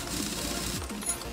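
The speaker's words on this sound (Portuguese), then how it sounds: "agora a gente vai afrouxar os parafusos aqui para poder" Wheel bolts are loosened in the Car Mechanic Simulator 2018 video game, a brief stretch of quiet mechanical whirring and rattling from a power tool, steady and low in level with no speech.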